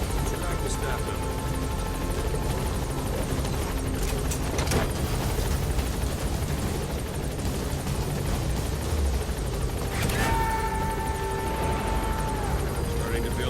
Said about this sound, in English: Board the chopper when you're ready for a mission.